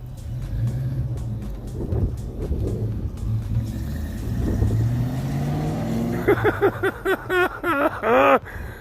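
A 1986 Ford Mustang LX Foxbody revving after a high-torque mini starter install, a continuous low engine rumble with rising and falling revs, later joined by excited voices talking over it.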